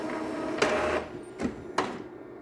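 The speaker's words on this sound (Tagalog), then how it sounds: "So, subukan natin mag-test print." An Epson L3110 inkjet printer whirs steadily during a test print with a few sharp mechanical clacks and shuttle sweeps, close by, with no voices.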